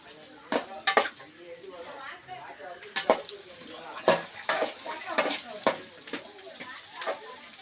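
Onions sizzling as they sauté in a pan with garlic, with sharp clinks and scrapes of a utensil stirring at irregular intervals, close up.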